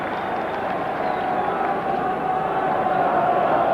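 A large rugby crowd of about 10,000 supporters roaring steadily in a stadium at a 1979 Leicester versus Moseley match, a dense continuous wash of cheering and noise.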